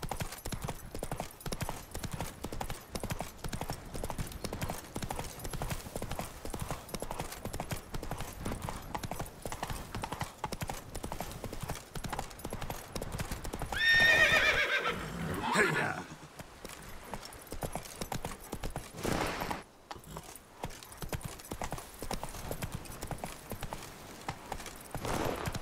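A horse gallops in the open-world game The Witcher 3: Wild Hunt, its hooves clip-clopping in a fast continuous rhythm, with a brief louder swell of movement midway and a voice speaking over the hoofbeats.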